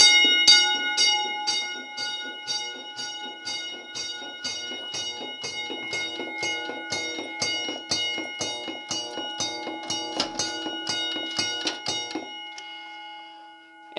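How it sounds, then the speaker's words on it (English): A Simplex single-stroke fire alarm bell strikes repeatedly in a steady, fairly fast rhythm, each loud metallic clang ringing on into the next, driven from a notification circuit in a test setup; the strikes stop near the end and the tone decays. "this is the new Simplex bell, which runs off of this switch from the notification circuit"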